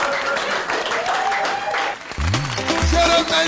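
An audience at a comedy show in Paris's Quartier Latin claps in a dense burst of applause for about two seconds. Music and voices take over right after.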